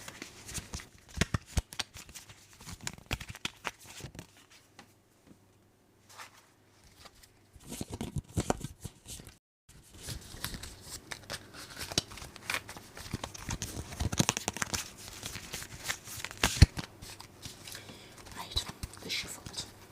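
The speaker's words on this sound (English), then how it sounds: "I'm going to do a little bit of shuffling." Large tarot cards being shuffled by hand in a quiet room, soft papery riffles and shuffles coming in bursts, with close whispering at times and a brief pause partway through.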